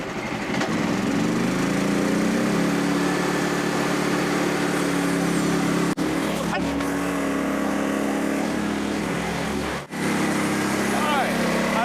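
Portable frontier sawmill engine running at full throttle while cutting white oak lumber, a loud continuous droning roar that holds steady and close throughout with brief dips.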